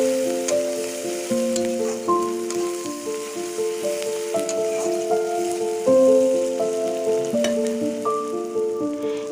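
Onions, ginger-garlic paste and chopped chilli fry in mustard oil in a wok, sizzling steadily throughout, with a layer of musical tones running over the frying.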